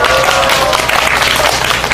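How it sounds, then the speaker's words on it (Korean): A crowd at an evening rally against a US free trade agreement breaks into applause, a short burst of dense, steady clapping. "박수 한번 쳐주십시오."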